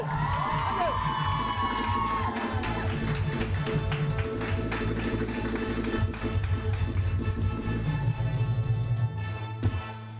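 A studio audience on a morning TV show claps and cheers on cue, a dense, sustained crowd roar with shouts and whoops, steady throughout and underscored by music.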